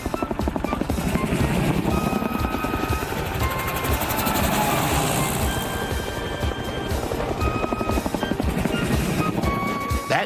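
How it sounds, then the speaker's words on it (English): Steady, loud rhythmic thumping of helicopter rotors fills the whole stretch, with a whining engine tone layered over the beating blades. "That night, 6 helicopters and 200 troops squelched into London under the command of one Colonel Buffy."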